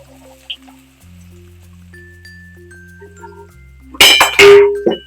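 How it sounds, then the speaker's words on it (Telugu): Soya chunks (meal maker) tipped into hot oil in a kadai, giving a loud burst of sizzling and clattering near the end after a quiet stretch, with a brief metallic clink as the chunks hit the pan. "మనం ముందుగా పిండుకున్న మిల్లీ మేకర్స్ అన్ని ఇందులో వేసేసుకోవాలి"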